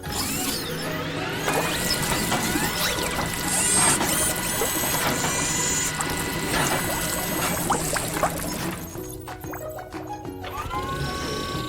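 Rotating brushes of a toy car wash whir and clatter with a busy mechanical ratcheting, gears grinding steadily with scattered clicks and knocks throughout, fairly close and loud with no talk.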